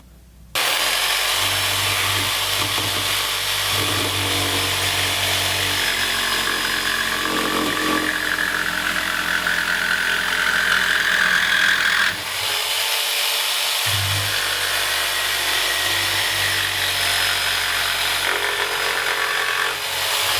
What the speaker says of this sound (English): I'm going to make these cuts now on the jigsaw.